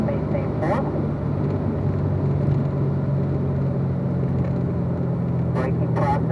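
A Corvette Z06 with an automatic transmission accelerates down a track straightaway, its engine a steady, loud, continuous roar. A person talks over it throughout.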